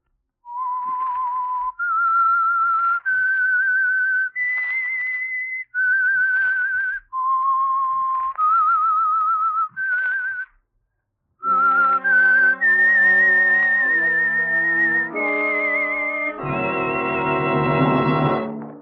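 A person whistles a slow, clear melody of held notes with short breaks, then a fuller sustained chord of tones carries the tune on. Loud and close, no talking. Radio drama theme.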